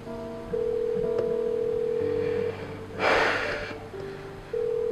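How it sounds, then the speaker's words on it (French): A telephone call goes unanswered, its ringback tone sounding as steady electronic beeps that start and stop in a repeating pattern, with a brief rustling burst in the middle. "Elle ne décroche même pas."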